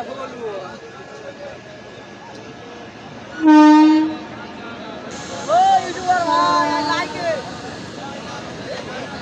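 A train rumbles past on the line, with one loud horn blast near the middle and a second longer horn sounding later, while someone talks nearby.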